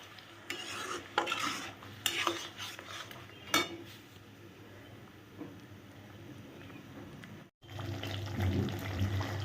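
Yogurt being stir-fried in a pan over a medium flame for cauliflower rezala, a spoon scraping and stirring in steady strokes over a low sizzle, with a brief pause near the end before the stirring resumes.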